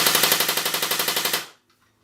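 An M901C AK47 airsoft gun on a 7.2 battery fires full auto: a loud, rapid, even burst of mechanical cracks lasting about a second and a half, then it stops abruptly into silence.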